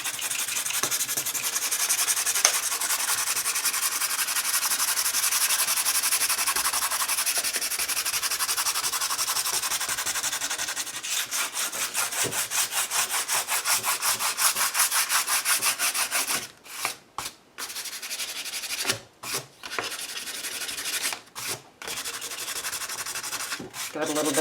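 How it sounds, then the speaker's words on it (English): Sandpaper scrubs back and forth across a glued paper collage surface, a steady loud rasping that runs on with brief pauses near the end. "I'm going to take a little sandpaper in here"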